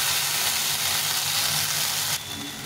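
Dried red chilli paste added to a hot frying pan sizzles loudly and continuously, a bright hissing fry that eases slightly near the end.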